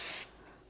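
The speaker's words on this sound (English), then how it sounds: "I'm going to spray this again." A short, close spray of cooking spray over a pan for homemade marshmallows, one sharp hiss that cuts off abruptly and leaves faint room tone.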